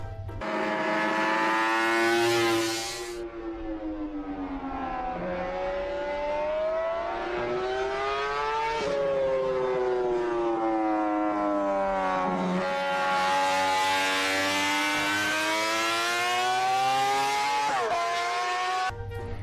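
A 1966 Honda RC166 250cc four-stroke racing motorcycle engine screams at very high revs, heard close and loud as it repeatedly climbs, drops and rises again through gear changes with a rich harmonic wail, alone without talk.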